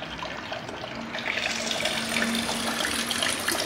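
Water gushing steadily through an opened stopcock into plastic pipe, a continuous broadband rush that swells slightly louder partway through, close and with no talk.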